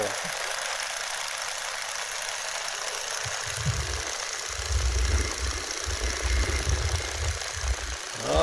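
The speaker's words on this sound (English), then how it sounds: "this run-up engine's running strong" Stearman biplane engine throttling up on the runway for takeoff, a low rumbling drone that swells in strength and grows louder toward the end.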